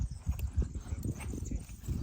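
A working mare named Zorka shifts about, her hooves landing in a quick, uneven series of soft thuds, close by and fairly quiet, with no talk over them.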